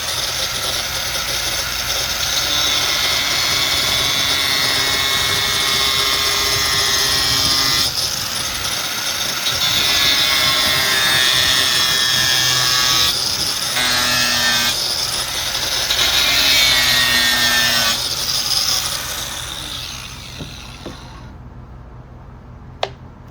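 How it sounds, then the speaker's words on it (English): Small disc wheel cutting panels for a poolside cocktail table built from leftover materials, giving a loud, steady whining grind with shifting pitch that runs for about twenty seconds before spinning down and stopping. "Cut these panels when it's small cuts like that, not, you know, complete cuts, is with those little disc wheels."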